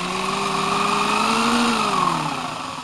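A jigsaw cuts into the stock stand of a Sony Trinitron XBR TV, its motor whining loud and close, pitch sliding up and down as the blade loads and eases through the cut.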